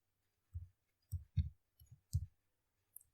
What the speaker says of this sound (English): Now I go to editing group and click on find command.